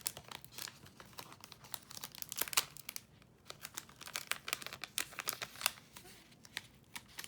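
An old sticker package is peeled open by hand, with close, quiet crinkling and sharp tearing rustles coming in irregular bursts throughout.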